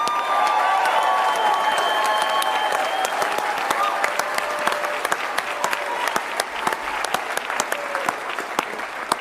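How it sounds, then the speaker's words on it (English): Crowd applauding with sustained clapping and some cheering, sharp individual claps standing out over the dense wash, while voices and whoops rise over it and gradually thin toward the end. "So can you do me a favor and give him a round of applause?"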